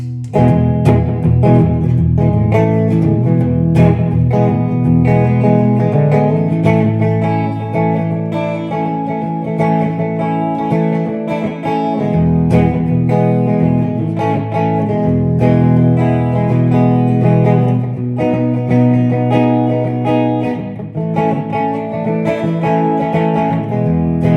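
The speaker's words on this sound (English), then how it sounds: "I'm just plugged into a Marshall, so I'll just add a little bit of slack back delay" Electric guitar plays continuously through an amp, with a slight echo trailing the notes; sustained chords and melodic lines, loud and close.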